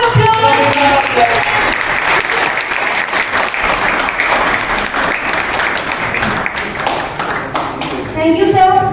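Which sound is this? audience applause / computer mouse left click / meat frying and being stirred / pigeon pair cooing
audience applause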